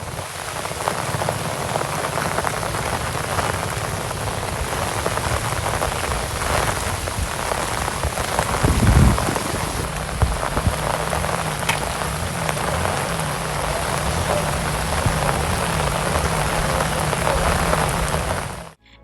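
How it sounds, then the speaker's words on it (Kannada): Heavy monsoon rain pours steadily in Bhatkal as swollen streams flood the roads, a dense, loud, unbroken roar from start to finish with no voices over it. "ಭಾರೀ ಮಳೆಯಿಂದಾಗಿ ಇಲ್ಲಿನ ಚೌತ್ನಿ, ಮೂಡಭಟ್ಕಳ, ಕಾಲುಸಂಕ ಹೊಳೆ ಉಕ್ಕೇರಿದ್ದು ಪಕ್ಕದ ರಸ್ತೆ ಮೇಲೆ ಹರಿದು ಹೋಗಿದೆ."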